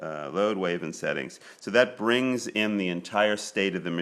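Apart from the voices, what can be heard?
No distinct noise like a dog, phone or traffic.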